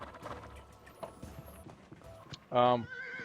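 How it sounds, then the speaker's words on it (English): Horses in a stable in the medieval game Life is Feudal give one loud, close whinny near the end, preceded by faint clip-clop hoofbeats and shuffling, while someone talks over them. "These are some of my horses that I have in here."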